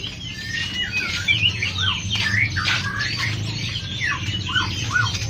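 A pair of young spotted magpie robins (murai) chirp and squawk in quick, busy, overlapping calls, close and continuous against a low background hum.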